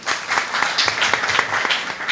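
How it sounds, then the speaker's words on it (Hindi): Loud, close applause from an audience at a community society gathering, dense continuous clapping filling the whole stretch with no voices on top. "इसके लिए जोरदार तालियां बजाइए।"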